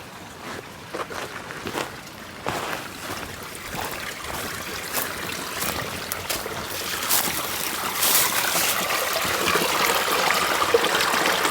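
Water flows and trickles steadily through a road culvert at an off-grid property with beaver flooding, a continuous close rushing sound that grows slightly louder toward the end, with no talking.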